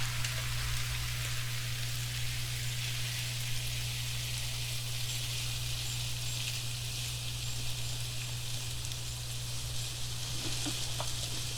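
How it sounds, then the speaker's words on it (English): Steady rain in the video game Diablo 4, a dense, continuous patter of drops on the ground beneath a constant low hum, even and unbroken throughout. "the puddles of water actually grow in size as the rain continues"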